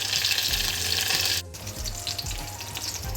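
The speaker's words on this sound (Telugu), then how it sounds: "నూనె వేడెక్కాక జీలకర్ర వెల్లుల్లిపాయలు ఎండుమిర్చి కరివేపాకు వేసుకొని మంచిగా వేయించుకోవాలి" Cumin, garlic, dried red chillies and curry leaves frying in hot oil, a dense bright crackle and sizzle that cuts out briefly midway, then resumes over low background music.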